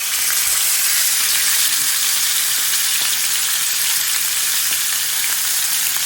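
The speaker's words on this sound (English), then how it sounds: "Now we're gonna sear it off." Beef fillet sears in a hot pan for Beef Wellington, giving a steady, loud, close sizzle and crackle of frying fat that fills the whole stretch without a break and with no talking.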